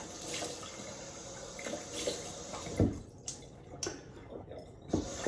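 Tap water runs steadily into a sink while washing off after a shave, with a few louder splashes and drips standing out over the flow.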